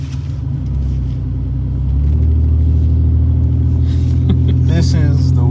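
A 1988 Oldsmobile Cutlass Ciera engine drones loudly from inside the car, its low, humming rumble climbing as the stiff throttle is pressed, while occupants talk over it.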